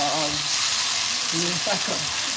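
Seasoned shrimp fry in a pan with a loud, steady sizzle throughout, while someone talks briefly over it.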